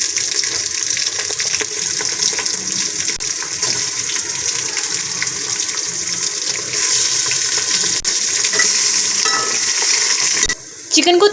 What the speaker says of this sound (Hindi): चिकन को थोड़ा फ्राई करेंगे।